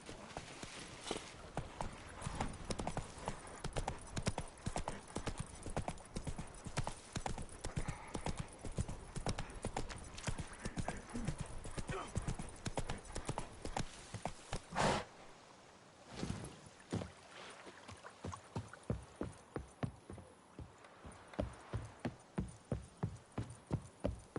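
Horse hooves gallop in The Witcher 3 in a fast, steady clip-clop that stays continuous and close, then slows into separate, spaced hoofbeats toward the end.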